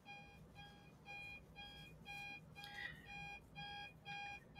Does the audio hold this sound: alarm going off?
yes